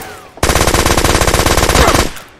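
Automatic gunfire in the battle royale video game Knives Out, played on a PS4 Pro, heard as one loud, rapid, continuous burst lasting under two seconds that fills the clip before cutting off abruptly.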